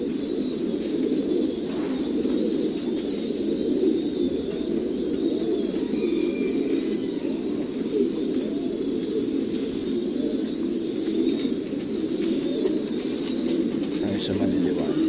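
A flock of young racing pigeons coos in a loft, a continuous low rolling murmur of many overlapping coos, close and steady, with a faint voice in the background.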